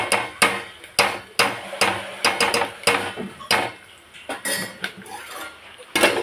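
A plate is set over a cooking pan of ridge gourd curry on low flame: loud, close metallic clatter and repeated clinks of steel against steel in quick, uneven bursts.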